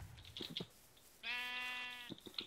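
A single sheep bleats in a video game, a clear wavering bleat lasting under a second, set between soft clicks like computer keyboard typing.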